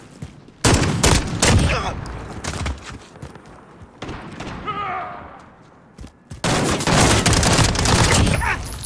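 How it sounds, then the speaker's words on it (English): Dense video game gunfire from Call of Duty Modern Warfare, loud bursts of rapid automatic shots and booms with a brief lull midway, then heavy sustained firing to the end. "I was just shooting."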